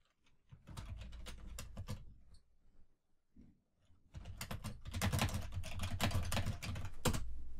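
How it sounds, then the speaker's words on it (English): A computer keyboard being typed on to enter a sentence, rapid close clicking keystrokes in two bursts with a brief pause between them, the second burst denser and louder, with no talking. "I'm going to type a sentence."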